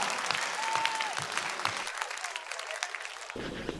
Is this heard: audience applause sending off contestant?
yes